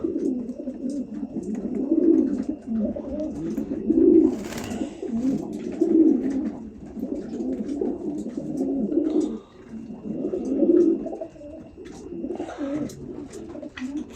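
Pigeons coo close by in repeated low, throaty rolls, several calls overlapping in a steady rhythm with faint rustling between them, from paired fancy pigeons of German and Polish stock.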